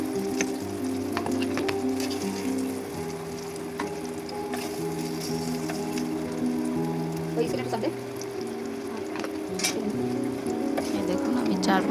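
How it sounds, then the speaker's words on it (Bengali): Eggplant slices frying in a pan of oil, a steady close sizzle with occasional turning and pressing sounds, soft clatter running throughout, with a person talking over it. "একটা একটা করে সুন্দরভাবে উল্টায় মাঝখানে চেপে চেপে দিতে হবে, যেন সব জায়গায় তেল ঢুকতে পারে"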